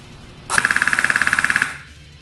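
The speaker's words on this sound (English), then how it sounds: "Let's do rate of fire test." Airsoft electric gun (AEG) fitted with an ROA spring, fired full auto through a wound high-capacity magazine, a rapid even burst of about twenty sharp cracks lasting around a second, close and loud, alone.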